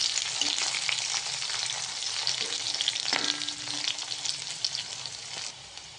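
Green chillies and ginger sizzle steadily in a hot pan of oil, with onions already softened alongside, making a continuous close frying hiss with occasional stirring scrapes and no talk.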